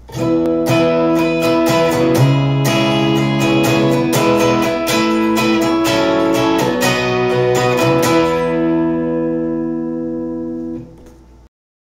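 Strummed acoustic guitar chords with a capo ring out in a steady progression, close and bright, several changes before the final chord fades into silence.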